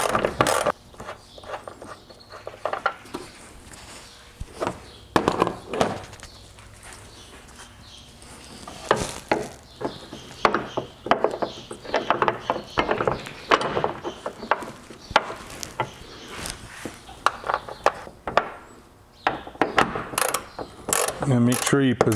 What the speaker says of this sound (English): I'm gonna take out the top and only loosen the bottom nut.